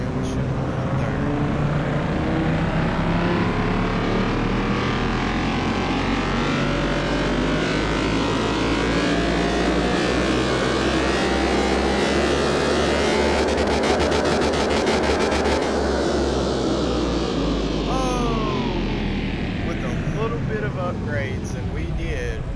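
An upgraded Z car engine in Car Mechanic Simulator 2021 runs hard on a dyno, its loud, strained roar climbing in pitch through gear changes and then dropping off near the end, with someone talking over it.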